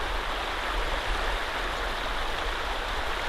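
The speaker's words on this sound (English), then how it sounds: "But the river keeps flowing." A river flows with a steady, dense rushing wash of water, constant and close, with no other sounds over it.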